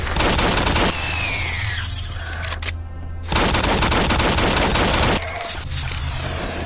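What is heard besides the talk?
rapid pistol gunfire in video game Doom 3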